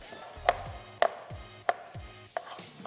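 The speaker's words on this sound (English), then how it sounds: "we're going to chop our vegetables" A knife chops vegetables on a cutting board, four crisp, evenly spaced strikes, close and clear with no talking.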